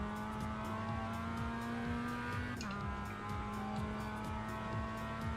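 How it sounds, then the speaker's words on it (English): A Mazda MX-5 race car in the iRacing video game, its engine droning in a steady tone that climbs and drops through repeated gear shifts, with one brief shift partway through, heard alone without talk. "why I chose iRacing of all things when I jumped into the MX-5 Mazda"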